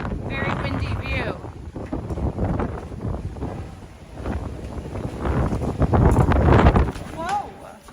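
Strong wind gusting across an oceanfront hotel balcony at a beach resort, loud buffeting rumble on the microphone that swells and fades, with someone talking through it.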